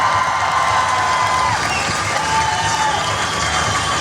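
A crowd applauds and cheers for a couple at an outdoor celebration, a continuous loud wash of clapping, whoops and children's shouts sustained throughout, with faint voices mixed in.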